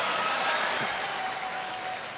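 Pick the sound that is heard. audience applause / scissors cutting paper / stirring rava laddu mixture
audience applause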